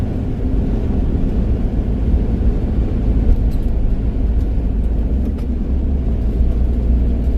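Steady, loud low drone of a campervan engine labouring up a deceptive hill on a Scottish road, with constant road rumble and no break in the strain.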